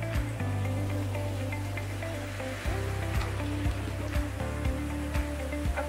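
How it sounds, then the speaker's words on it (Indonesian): Steady heavy rain pours near a river waterfall while kayaking at Sungai Lembing, a dense continuous wash of water with occasional splashes and knocks on top. "Hujan tengah lebat ya."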